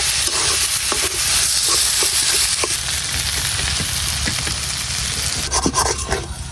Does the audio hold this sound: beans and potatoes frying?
yes